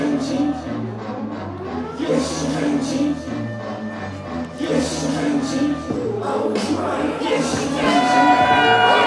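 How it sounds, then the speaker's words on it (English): A pro wrestling crowd at ATTACK! Pro Wrestling's Under the Mistletour 2023 event roars and cheers steadily as a wrestler walks to the ring, with entrance music and a commentator's voice over the noise. "the crowd coming alive as Kanji makes her way to the ring"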